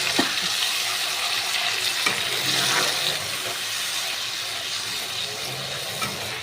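Spices for a fish curry with potato and cauliflower sizzle steadily in a hot pan, a loud, continuous frying hiss with a few sharp crackles and stirring scrapes.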